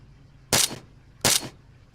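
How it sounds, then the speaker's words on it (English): Two heavy artillery impacts in the Arma 3 military game, each a sharp loud blast with a short rumbling tail, spaced under a second apart against a quiet background. "I have called in not mortars but artillery"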